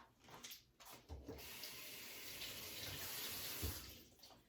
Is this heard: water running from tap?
yes